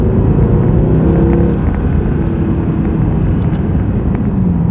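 A Mercedes C63 AMG accelerates hard after a downshift, its engine a loud, steady roaring drone heard from inside the car, with no talk over it.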